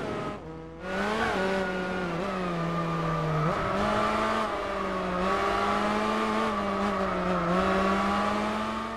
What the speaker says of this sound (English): There are enhanced engine sounds for over 400 cars in this game, over 130 new recordings, and there's a bunch of new skid noises as well when you're sideways.